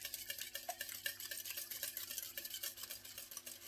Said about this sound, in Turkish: Birazcık karıştırayım.